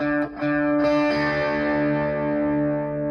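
Electric guitar plays the Sweet Home Alabama intro riff with effects and a touch of distortion, a few picked notes at first and then the notes left ringing out and slowly fading, played alone with no voice.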